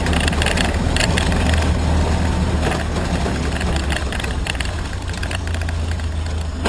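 Old 1928 Ford Model A engine running steadily as the car drives across a rough grass field, a continuous low rumble with rattling and bumps throughout, fairly loud and close, no talking.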